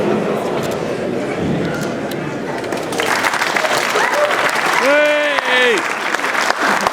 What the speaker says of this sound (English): when I point to the individual character, you've got to clap.